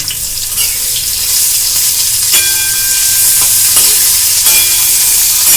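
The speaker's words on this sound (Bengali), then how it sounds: "তেল দিয়ে এই ক্যাপসিকামটা আমি একটু তেলে কষে নেব, তাহলে কাঁচা গন্ধটা চলে যাবে।" Chopped capsicum sizzles in hot oil in a kadai, a loud, steady frying hiss with faint crackles and occasional light stirring, and no talking.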